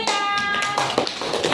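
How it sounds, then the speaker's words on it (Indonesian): Brief burst of classroom applause for a pupil, a short patter of clapping hands lasting under two seconds amid room noise and faint voices. "tepuk tangan"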